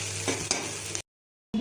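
Leftover fried food reheats in a pan, giving a close sizzle with stirring scrapes for about a second before cutting to silence, then a brief return of sound.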